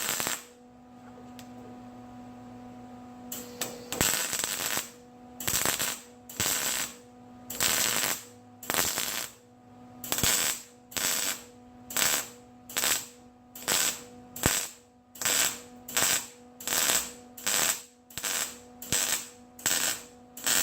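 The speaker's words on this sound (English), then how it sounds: "I'm trying to overlap the weld" A rapid series of short crackling bursts from welding seams along a car door gap, pulsing in a steady rhythm over a low electrical hum, close and fairly quiet.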